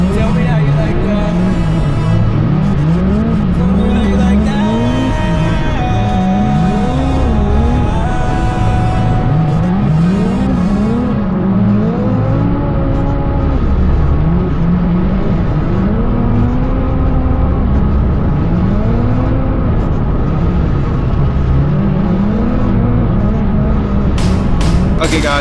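Naturally aspirated dirt race cars roar around a Michigan dirt track, engines rising and falling in repeated high revving passes, loud and continuous through the whole stretch, with music playing underneath.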